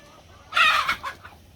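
Chickens in a backyard flock give a short burst of clucking and squawking, fairly close and moderately loud, rising suddenly and then tailing off after about a second.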